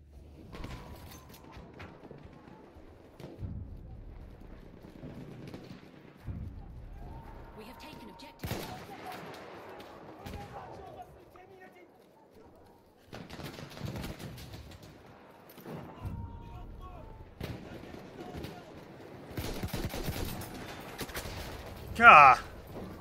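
Semi-automatic gunfire from the Battlefield 1 video game comes in scattered, fairly quiet bursts of shots against battle noise, with one louder spike near the end; a person talks at points over the action.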